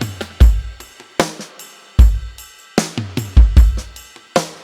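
Drum beat from a song, punchy kicks and snare hits in a steady pattern with short decays, loud and alone with no voices.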